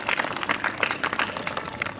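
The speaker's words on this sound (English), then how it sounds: "Big round of applause for the students who already know about it." Students at a school welcome assembly clap together in a dense, even burst of applause that fills the short moment without a break.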